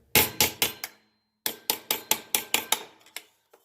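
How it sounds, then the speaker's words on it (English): A hammer taps a plastic tube to seat a seal flush onto a washing machine shaft. It gives a close, sharp run of about five knocks, a short pause, then roughly eight more steady taps that trail off. "then I'll take my hammer and slowly work it in"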